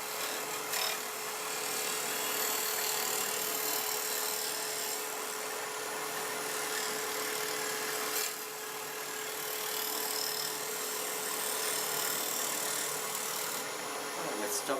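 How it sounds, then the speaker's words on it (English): A wood lathe spins while a turning tool skims a hollow form, giving a steady, fairly quiet whirring hum with a scraping hiss and a few brief clicks and ticks along the way. "Move the tool rest to get closer down here, and we're going to skim this bit."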